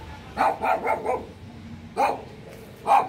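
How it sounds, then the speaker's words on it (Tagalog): A dog barks loudly nearby, a quick burst of four barks followed by two more separated by short pauses. "Yung aso maingay."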